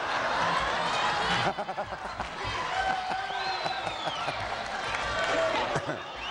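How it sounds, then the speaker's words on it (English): A studio audience at a 1981 Blockbusters game-show taping claps and murmurs, a busy crowd bed that thins partway through, while a host talks over it. "Okay, hold the applause down here."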